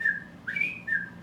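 A series of whistled notes imitating a pintail duck call: a held tone, a brief rising slide, then another held tone, alone in a quiet room.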